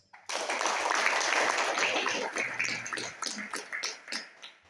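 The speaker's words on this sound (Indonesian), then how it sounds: "Tepuk tangan untuk kalian." Contestants at a provincial autobody repair competition evaluation get a burst of crowd applause. It starts abruptly, holds full for a few seconds, then thins into scattered individual claps.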